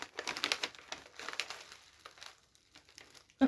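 A padded bubble envelope torn open and crumpled up close, giving dense crinkling and crackling bursts that thin out toward the end.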